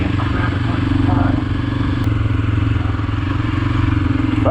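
Motorcycle ridden off-road by a newbie rider, its mid-pitched engine droning steadily and close throughout, with rattling clatter over the rough ground and no clear talk.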